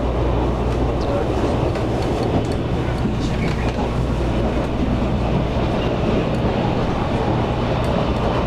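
An EMU700 electric commuter train runs between Zhubei and Hsinchu, with a steady loud rumble of wheels and motors heard from inside the car throughout, plus faint rhythmic track clicks.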